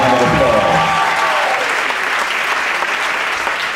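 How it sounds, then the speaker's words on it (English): A crowd at an early-voting rally applauds elected officials. Loud, close clapping swells as a voice trails off, then continues steadily on its own. "if you wouldn't mind giving all of those elected officials who are here, who have spoken, a round of applause"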